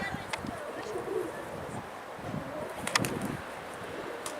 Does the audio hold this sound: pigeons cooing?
yes